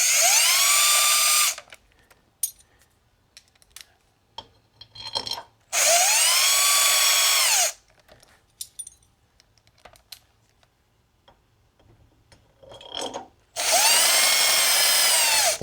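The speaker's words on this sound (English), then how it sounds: "especially using an impact gun, or even a small one" A small impact gun drives bolts into the cylinder head of a Briggs & Stratton engine on a John Deere D110 riding mower, sounding as three loud, sustained hammering whirs, each about two seconds long, separated by quiet pauses with small clicks and handling noises.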